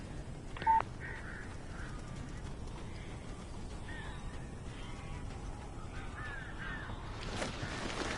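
Crows caw in the video game Alan Wake: harsh caws repeat at intervals over a steady, noisy ambient bed, with one sharp click near the start, at moderate distance.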